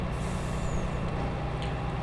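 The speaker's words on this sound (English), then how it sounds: "the first truck with the cotton bales is pretty much just behind me" A truck hauling cotton bales in Farming Simulator 22 gives a steady, loud, close low engine rumble with a brief hiss, lasting about two seconds with no talk.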